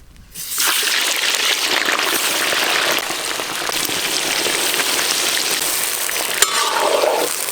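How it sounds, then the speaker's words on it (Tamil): Five kilograms of chicken dropped into hot peanut oil in a kadai, bursting into a loud, dense, steady sizzle that starts abruptly and holds without letup. "எண்ணெய் சூடாயிருச்சு. இப்போ 5 கிலோ சிக்கனை போட்டுக்கலாம்."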